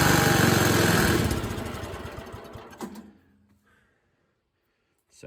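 The engine of a 1969 Montgomery Ward lawn tractor, running on year-old gas, roars loudly and rough, then sputters and dies away over a few seconds, leaving near silence before a brief clunk.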